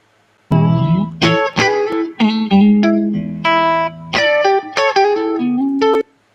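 A PRS SE electric guitar plays a short melodic phrase of ringing, sustained notes and chords, clear and close with no other sounds.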